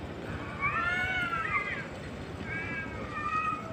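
Two cats fighting yowl and screech at each other in drawn-out, wavering cries, a long squall followed by a shorter one after a brief pause.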